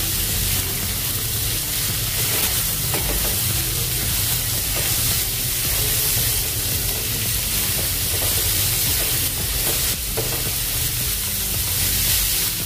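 Onions fry in hot oil in a pan for a chana dal onion curry, giving a loud, steady, close sizzle and hiss that runs without a break and with no talking.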